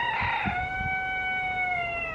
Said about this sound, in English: that looked like a chicken, but that timing, thank you Rooster, was impeccable